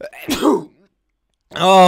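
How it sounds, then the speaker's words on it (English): A single sharp sneeze from a person, a breathy burst at the start followed by a short silence, then a drawn-out voiced exclamation. "I knew I was gonna sneeze"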